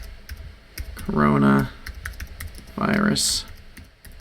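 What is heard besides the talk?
typing on a computer keyboard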